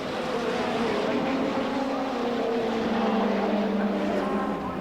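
Unrestricted Ford Sierra touring cars race in the 1990 British Touring Car Championship, engines droning steadily and loud in a continuous roar that shifts slightly in pitch as they pass.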